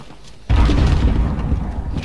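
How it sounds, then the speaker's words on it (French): A grenade blast in the video game Call of Duty: Modern Warfare, a sudden loud boom after half a second of quiet, then a sustained low rumbling roar that decays slowly. "Une grenade, on va vous lancer."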